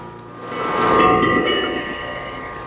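DC generator on a no-load test running at 900 RPM, a steady mechanical whine and hum close by that swells briefly and then eases, with a faint ticking above it.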